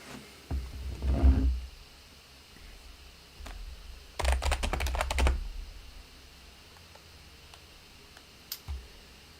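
Bursts of typing on a computer keyboard: a brief flurry of clicks, a longer fast run of keystrokes in the middle, then a few scattered taps, all close and fairly quiet with no talking.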